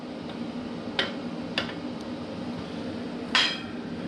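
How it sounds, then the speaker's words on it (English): A few sharp metallic taps from a hammer on a homemade tiltrotator part ring out at irregular intervals over a low background hum, the last strike the loudest. "you can try and give it a little tap with the hammer"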